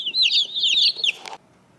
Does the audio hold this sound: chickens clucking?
yes